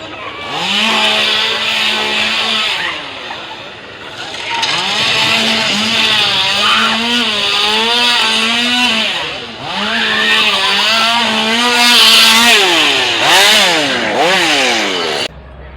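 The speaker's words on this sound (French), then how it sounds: "Jason avec sa tronçonneuse" An actor costumed as Jason revs a chainsaw at the Parc Astérix Halloween event, the engine loud and near, rising and falling in repeated bursts over a long stretch with crowd noise around it.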